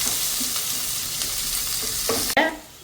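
Onions being sautéed in a pan until brown make an even, close hiss of sizzling, broken near the end by a clatter of stirring and a brief dip in sound.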